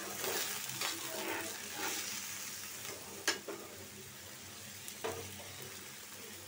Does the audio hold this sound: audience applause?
no